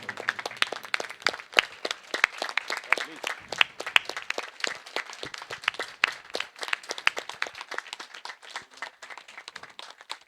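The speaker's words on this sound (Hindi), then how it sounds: "जोरदार ताली के साथ एहतराम करें" An audience at a theatre group's felicitation claps for the writer and director of the play, a sparse, uneven patter of individual hand claps with distinct sharp slaps rather than a dense roar, lasting about ten seconds.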